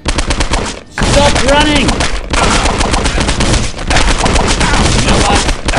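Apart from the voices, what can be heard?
Glock pistol gunfire in the video game Postal 2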